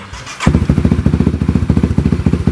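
A motorcycle engine starts up and idles with a rapid, loud, lumpy exhaust putter, close by and steady.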